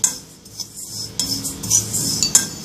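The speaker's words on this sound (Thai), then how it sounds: "นำในส่วนของงาขาวกับงาดำนะคะมาคั่วให้เข้ากันก่อนนะคะ ใช้ไฟอ่อนๆ นะคะในการคั่ว" White and black sesame seeds roasting together in a pan over low heat for a Thai sweet, with soft scraping and light clinking of a utensil stirring against the pan throughout, close and moderately quiet, no voices.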